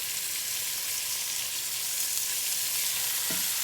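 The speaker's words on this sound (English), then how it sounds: "I'm going to turn these pork chops" Pork chops with sage leaves sizzle loudly in a hot pan, a dense, steady frying hiss heard up close, with a faint scrape near the end as they are turned.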